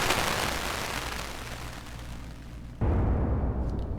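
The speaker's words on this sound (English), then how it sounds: "So this is the initial explosion." A synthesized firework's initial explosion, made in Reaktor 6: a noise burst fades over a few seconds, then a second sharp, bassy blast hits and decays, electronic and fairly loud.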